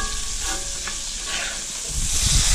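Freshly flipped burger patties sizzle on a hot griddle, a steady hiss of frying at close range that swells louder toward the end, with a faint clink near the start.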